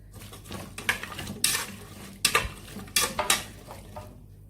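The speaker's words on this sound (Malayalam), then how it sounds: "കുക്കർ അടച്ച് ഇനി നമുക്ക് വേവിച്ചെടുക്കാം" A pressure cooker lid being fitted and closed over a vegetable korma, a run of close, sharp metallic clanks and scrapes in three clustered bursts separated by brief quiet gaps.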